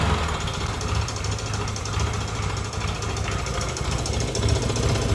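A 1978 Yamaha XS650 motorcycle idles after winter storage, its engine running as a steady, dense, loud rumble with a fast knocking pulse, close up and continuous throughout, with no talking.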